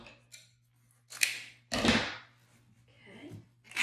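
Scissors cut the ribbon tail of a Halloween bow made on a bowmaker, giving a few crisp, close snipping and swishing bursts separated by quiet gaps.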